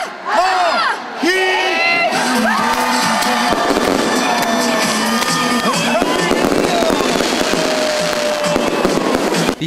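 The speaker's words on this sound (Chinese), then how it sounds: "夜空中放起了五彩烟火" New Year's Eve fireworks burst over a crowd at an outdoor countdown party in Puli, Nantou, with loud, dense crackling and popping under continuous cheering and shouting.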